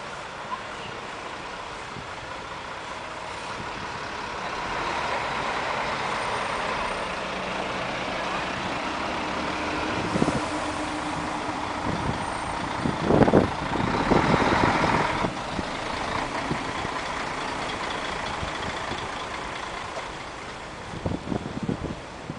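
Heavy street traffic in a snowy city, with trucks and buses rumbling past, a few louder passes and brake hisses over a steady low din, heard from the roadside.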